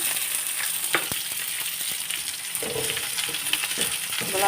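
Onions fry in a pan, giving a steady crackling sizzle with scattered pops and light stirring clicks, close by and even in level, with no one speaking.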